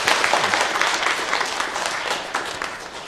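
A church congregation applauds during a Sunday worship service, a dense, sustained wash of many hands clapping at once that stays loud and even throughout, with no talking over it.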